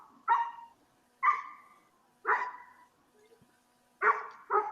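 A dog barks repeatedly and loudly at a squirrel, five barks with short pauses, the last two coming quickly together.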